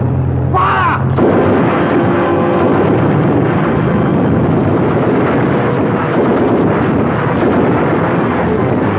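Battle scene from a war film with gunfire and artillery, a loud, dense roar of continuous explosions and shots filling the whole span, preceded by a brief whistling sweep near the start.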